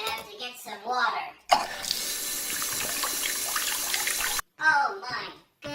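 A tap runs steadily for about three seconds, a broad loud hiss of water, with a child-like storytelling voice speaking before and after it.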